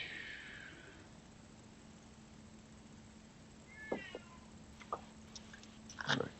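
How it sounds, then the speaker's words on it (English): A cat whines and meows in the background of a quiet indoor room, giving a drawn-out cry and then several short, sharp meows over a faint steady hum. "that's the cat in the background,"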